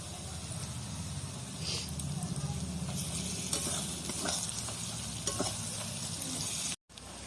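Garlic paste hits hot oil with fried onions while a chicken curry is cooked, producing a steady close sizzle broken by occasional stirring scrapes and a brief dropout near the end.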